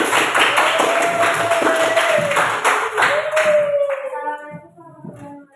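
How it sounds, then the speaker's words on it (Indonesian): Applause for a student group rings out in a classroom: a brief burst of many hands clapping that thins and fades within a few seconds, with a sustained tone and a few voices behind it. "Beri aplaus yang meriah untuk kelompok 4."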